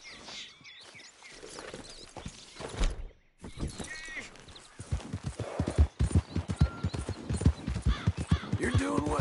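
Horse hooves clip-clopping in Red Dead Redemption 2, heard as a steady run of close, rhythmic hoof beats that quicken toward the end, with brief voices early on.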